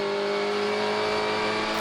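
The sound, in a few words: race cars on track at Red Bull Ring, BMW M4 Silhouette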